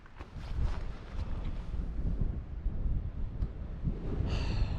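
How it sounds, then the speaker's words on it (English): Steady wind gusting across an outdoor microphone on a mountain path up Rosthwaite Fell and Glaramara in the Lake District, a low rumbling buffet that rises and falls throughout with no voices. "It's a bit windy"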